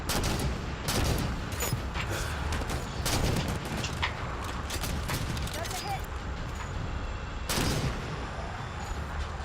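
An artillery barrage pounds during Halo 5 combat, repeated heavy blasts and bursts of gunfire at a moderate level with a few sharper impacts, while someone talks over the fighting.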